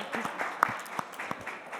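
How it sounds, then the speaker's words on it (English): A short, quiet burst of audience applause at a finance conference panel, a few claps standing out from a soft wash of clapping in a hall. "a quick round of applause for you guys."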